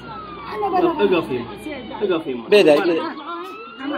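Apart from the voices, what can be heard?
ambulance siren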